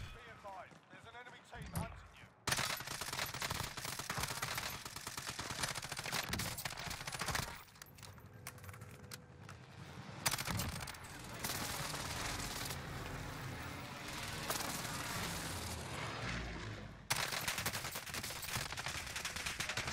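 Ram 7 rifle fire in Warzone on Rebirth Island comes in repeated bursts of rapid automatic shots throughout, with a voice talking over the gunfight.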